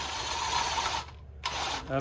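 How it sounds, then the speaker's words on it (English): An impact gun run like a drill spins a bolt while 30-inch Libra stabilizer jacks are installed, giving a close, steady whirring rattle that cuts out briefly and then resumes. "I'm just gonna use it like a drill. I'm gonna run it up"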